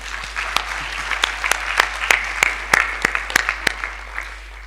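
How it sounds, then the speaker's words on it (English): Applause from a conference audience at a morning plenary session, steady broadband clapping with sharp individual claps standing out, moderately loud and continuous with no talk over it. "Let's give her a warm round of applause."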